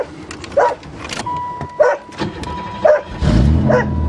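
A Pontiac with 203,000 kilometres on it cranks and catches, the engine coming in loud near the end, while a dog barks sharply in bursts and a thin electrical whine runs underneath.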